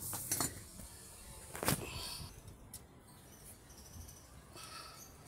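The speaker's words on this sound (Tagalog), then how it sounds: "Tapos ipapatong natin dyan yung spring" A metal spring set onto a Mirage scooter's rubber lifter gives a few quiet clinks and taps, with one sharper metallic contact near the middle, all faint against a low background hiss.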